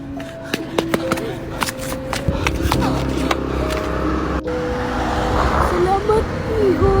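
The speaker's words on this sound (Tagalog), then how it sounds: "May paparating na sasakyan!" A vehicle approaches along a road with a loud, close engine drone that swells toward the end, with sharp clicks early on and voices talking over it.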